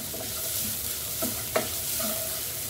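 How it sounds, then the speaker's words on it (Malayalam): Grated coconut, green chili and onion sauté in a pan, a soft steady sizzle with a few light scrapes of a spoon against the pan, close and fairly quiet. "തേങ്ങ പച്ചമുളക് സവാള ഇതെല്ലാം കൂടി നന്നായിട്ടൊന്ന് വഴന്നു വരണം."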